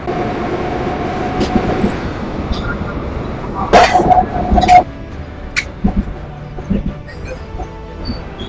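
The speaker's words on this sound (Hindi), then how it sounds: "वहाँ पे जो रोड पे ट्रेन चलती है जिसको ट्राम बोलते हैं" A 1982 Kolkata street tram rumbles along the road with a low steady drone, brief louder clatters and a tonal whine midway, then quieter passing noise; people talk intermittently nearby.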